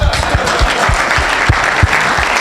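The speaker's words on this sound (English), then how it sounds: "Give them a round of applause" A room of investment club members at a San Diego meeting claps loudly and close by, a thick wash of applause with a few heavier individual claps standing out in an uneven rhythm.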